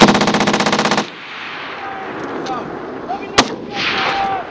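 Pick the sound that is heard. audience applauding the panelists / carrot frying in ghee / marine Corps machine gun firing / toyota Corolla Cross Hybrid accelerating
marine Corps machine gun firing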